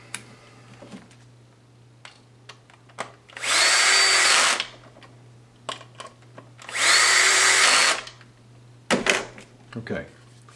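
A power drill fitted with a magnetic bit drives screws while a heavy-duty ball winder is reassembled, with two loud, sustained whirring bursts of a few seconds each, between scattered clicks and handling noises.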